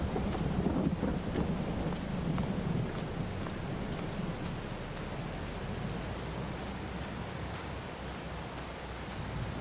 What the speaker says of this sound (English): Well, it's a long walk in the rain back over here.